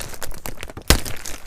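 A plastic bag around the wheels of a Revell 1:16 Volkswagen T1 Samba Bus model kit crinkles in hand, with soft rustling throughout and one sharp, louder crackle near the middle.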